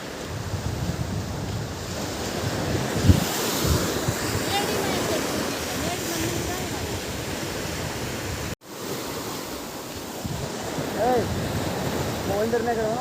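Waves breaking at the shore of Ratneshwar beach, a steady broadband wash of surf with wind across the microphone, one sharp thump and a brief dropout partway through, with people talking faintly.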